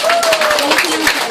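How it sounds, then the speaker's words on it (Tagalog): A church congregation claps together during a sermon, a brief burst of scattered hand claps under a preacher's voice. "Oh, palakpakan natin sila."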